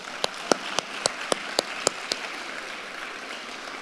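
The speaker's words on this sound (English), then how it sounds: "Let's please give them a round of applause." A small graduation-awards audience gives a light round of applause for scholarship benefactors, eight or so distinct, evenly spaced hand claps standing out over a soft wash of clapping that fades away.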